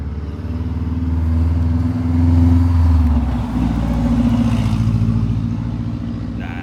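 A Subaru car revs loudly as it passes close by, its engine drone rising and swelling to a peak, dipping briefly, then surging again as it accelerates away, with no talking.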